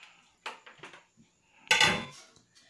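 Metal pan being handled in a home kitchen while preparing leche flan, a few clattering knocks and scrapes close by, with one louder clanging burst near the end, no talking.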